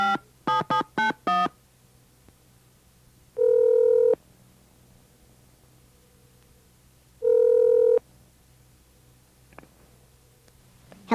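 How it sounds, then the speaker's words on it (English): Telephone keypad tones beep in a quick burst of five, followed by two longer steady ringback tones separated by a pause, fairly loud and clear with no talking. "Excuse me, I have to use the phone."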